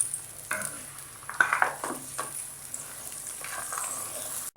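Braised duck sauce with five spice powder and chicken cube bubbles in a pot as it is stirred, giving soft scraping and sloshing sounds with a faint sizzle. It is quiet and close, with no voices.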